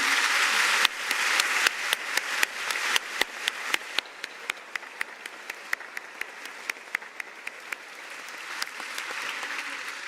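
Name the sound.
audience applause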